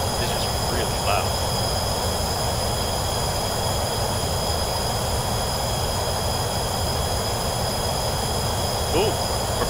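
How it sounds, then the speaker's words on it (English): Steady, loud broadband roar of a plane cabin in flight, constant engine and airflow drone filling the whole stretch with a few faint tonal whines and no clear talk. "This plane is loud, dude."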